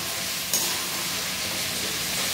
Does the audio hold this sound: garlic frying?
yes